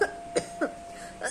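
Four short, dry coughs spaced unevenly over about a second, fairly close and moderately loud, with no talking.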